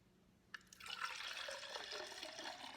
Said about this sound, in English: and pour it into the cup